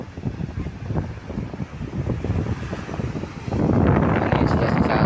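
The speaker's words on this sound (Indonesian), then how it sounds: "Ombak cukup besar hingga naik ke daratan karena diterpa angin yang cukup kencang." Strong wind gusting across a village harbour basin, with large waves pushed up onto the shore; a steady roaring rumble buffets the microphone and swells louder near the end.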